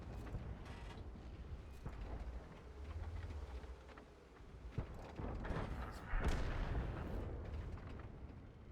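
A light tank's gun firing in a tank video game, a few sharp punchy shots and booms over a rumbling engine and battlefield background, with a quieter stretch before a louder blast near the end.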